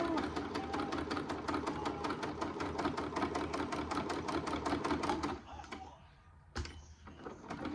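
A sewing machine stitches fabric for bowl warmers in a fast, even rattle of needle strokes for about five seconds, then stops. A short clunk and some handling noise follow.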